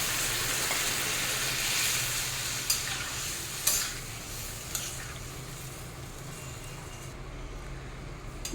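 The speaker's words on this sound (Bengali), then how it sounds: "জল অলমোস্ট ফুটে এসেছে" Water heating toward a boil in a pot of egg and potato curry with jackfruit, giving a steady bubbling hiss with a few sharp clinks and scrapes, close and moderately loud, without any talking.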